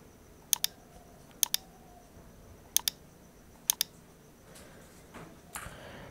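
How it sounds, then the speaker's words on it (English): Computer mouse clicks in a quiet room, several crisp paired clicks spaced a second or so apart, close and distinct, with faint rustling toward the end. "Check this option and click on I accept"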